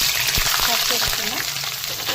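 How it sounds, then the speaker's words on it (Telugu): Chopped onions fry in hot oil for a chicken curry, making a loud, steady sizzle with a few stirring scrapes. A voice speaks faintly over it. "ఉల్లిపాయలు వేస్తున్నాను."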